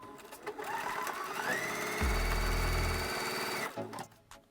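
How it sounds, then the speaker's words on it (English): A sewing machine stitches fabric triangles cut with an AccuQuilt die onto a leader for a scrappy hourglass quilt block, running steadily and up close with a brief louder, deeper burst of stitching in the middle and no talking. "I'm going to go ahead and just stitch on the AccuQuilt triangles"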